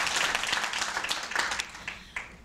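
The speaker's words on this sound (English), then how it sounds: "if we can just give a round of applause to all those women" An audience at a university memorial lecture and award ceremony claps for women honorees, dense applause fading over a couple of seconds.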